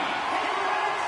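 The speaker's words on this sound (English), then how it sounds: "You can feel the energy in this crowd." Hockey arena crowd roaring steadily during a tied game, a dense continuous wash of cheering voices at a loud, even level with no pauses.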